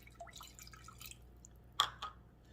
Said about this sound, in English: I'm going to continue to pour this water.